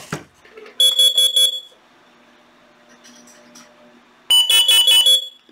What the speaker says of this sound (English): when it goes off, I'm going to hit the code and off once. That'll shut the siren off.